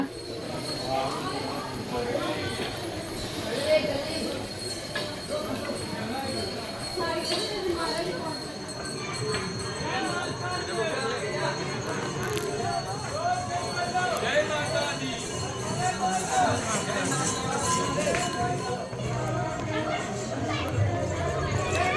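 Horse hooves clop along a crowded pilgrimage path on the Vaishno Devi Yatra, mixed into a dense wash of crowd chatter, footsteps and nearby voices.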